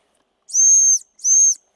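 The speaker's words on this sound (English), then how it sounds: "it's not much of a whistle" Small plastic emergency whistle clipped to a running hydration vest, blown twice in short, piercing shrill blasts close up, each under half a second, with silence around them.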